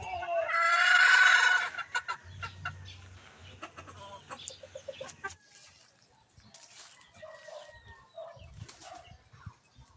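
Tethered fighting roosters cluck and crow, with a loud close crow at the start followed by scattered clucks, wing flaps and rustling, and a faint voice in the background.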